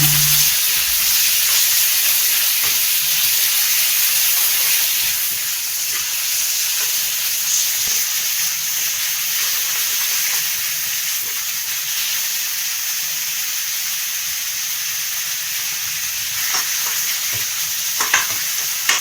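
Chopped tomatoes and onions sauté for tomato chutney in a hot pan, sending up a loud, steady sizzle and hiss that lasts throughout, with a few soft scrapes near the end.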